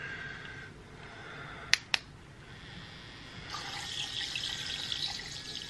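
A makeup brush cleaner spins a brush dipped in water, giving a low watery swish and bubbling that grows louder partway through, with two sharp clicks from a power switch beforehand.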